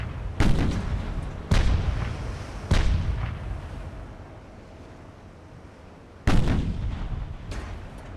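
Heavy naval guns from the warship game Ultimate Admiral: Dreadnoughts boom in four loud, separate blasts, each with a long rumbling decay, spaced over several seconds with a quieter lull between the third and fourth.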